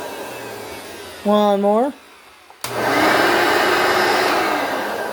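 A vacuum cleaner is switched on for a test run after a brief spoken countdown, starting with a sudden loud click and then settling into a steady, broadband whooshing roar that holds close and even to the end.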